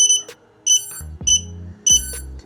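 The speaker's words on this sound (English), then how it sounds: "just ignore the beep sound for now" A SpeedyBee Mario 25 Mini drone's electronics emit repeated short high-pitched beeps in a regular pattern, warning of low supply voltage, close and clear with low electrical tones between them.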